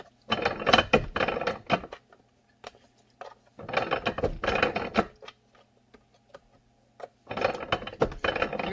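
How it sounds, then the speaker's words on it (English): Three separate bursts of an arbor press setting rivets into a holster for a Ruger LC9 or Taurus G2c, each a cluster of sharp mechanical clicks and ratcheting crunches with short quiet gaps between, close and fairly loud. "this is an Arbor Press"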